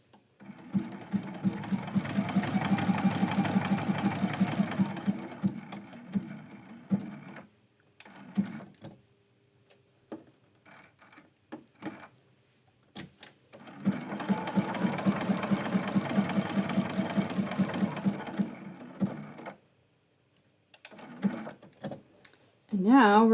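A sewing machine runs in two long, steady stitching runs while quilting a Christmas candy cane quilt block. A quiet pause with small clicks and handling noises falls between the runs, and more clicks follow the second run.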